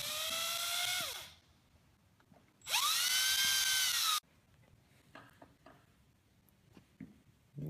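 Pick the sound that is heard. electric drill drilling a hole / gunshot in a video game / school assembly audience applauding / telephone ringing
electric drill drilling a hole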